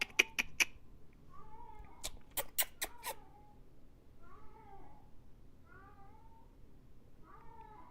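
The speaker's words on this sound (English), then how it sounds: "Cat." A cat meows and yowls in repeated drawn-out cries spread across the stretch, with a few sharp clicks or taps near the start and a low background hum.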